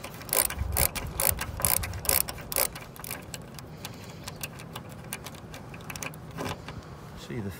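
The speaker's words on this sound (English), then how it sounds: "So that's one hole drilled and threaded." A tap wrench turns a cutting tap, oiled with cutting paste, into a drilled hole in the metal roof of a narrowboat in a marina. It makes sharp ratcheting clicks in uneven clusters, close up, with a voice speaking in between.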